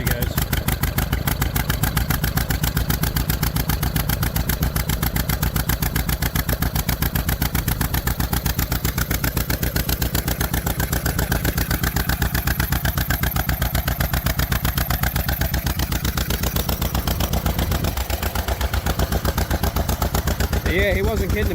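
Restored John Deere MV tractor engine running after a long layoff, a loud, close, rapid chugging exhaust beat held steady at a fast idle for the whole stretch.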